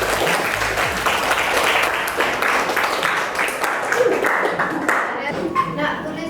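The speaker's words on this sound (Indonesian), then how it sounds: "Boleh kita kasih aplaus dulu." A classroom group applauds a correct answer during an Islamic religious education lesson, with steady clapping from many hands filling the room over several seconds, mixed with some voices, and the clapping thins out toward the end.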